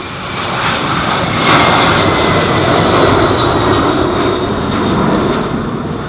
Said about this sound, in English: it's another 767, isn't it? Hurtling down the runway towards us.